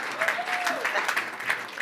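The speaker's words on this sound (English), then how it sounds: "Let's give a round of applause for Susan as I look forward to her presentation." An audience at a university talk on demographic shifts in the Midwest gives a warm, steady wash of applause to welcome the speaker, with a voice speaking over the clapping.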